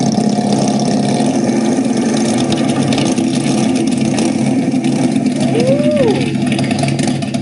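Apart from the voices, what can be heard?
motorcycle engines approaching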